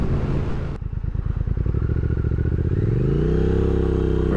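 A 2023 Triumph Speed Twin 1200 parallel-twin motorcycle rides along with a steady, throbbing engine note; a sharp clunk comes early, then a pulsing idle-like rhythm rises into a smooth, continuous drone as the revs climb, loud and close.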